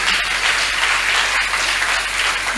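A church congregation at a Sunday service claps in sustained, dense applause to acclaim the Lord, loud and steady throughout with no pauses.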